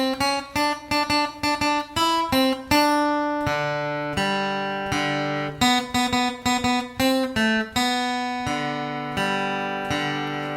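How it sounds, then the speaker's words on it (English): Guitar playing the mariachi horn lines from a song, a bright run of rhythmic plucked notes in short repeating phrases, close and clear, with no voices. "it has those mariachi horn lines, which we can mimic on the guitar"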